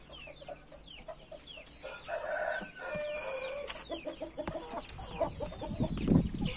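Crested hen and other chickens clucking in an irregular run of calls, fairly close, with short squawks and scuffling underneath and a louder burst of clucking near the end.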